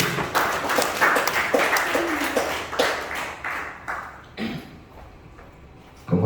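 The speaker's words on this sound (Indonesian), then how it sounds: "Kita berikan aplaus untuk Pastor Budi." A hall audience at a school workshop opening applauds Pastor Budi, with dense clapping that starts strong, holds for several seconds and then thins out and fades toward the end.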